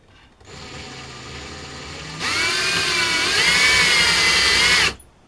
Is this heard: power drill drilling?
yes